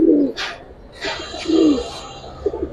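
A male Giribaz pigeon gives low, throaty coos in short bursts close by, with quiet pauses and light background noise between calls.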